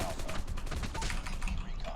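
Gunfire in a Free Fire or PUBG match, a dense burst of rapid shots cracking close and loud over game noise, with a voice talking faintly underneath.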